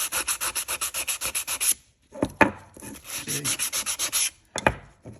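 Steady rhythmic scraping of sandpaper taking rust off a metal brake rotor, a run of even back-and-forth strokes, a short pause, then more sanding strokes close by.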